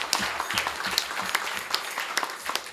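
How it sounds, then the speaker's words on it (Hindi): An audience claps for a Paralympic badminton gold medalist with moderate, somewhat uneven applause, individual claps standing out over a few seconds with no talk on top. "उनके लिए आप सभी तालियां बजाएं"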